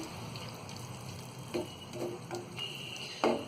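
Keema mince and fried potatoes with added water are stirred in a pan, a soft steady sizzle with a few distinct spoon scrapes and clicks, close up and alone without talk.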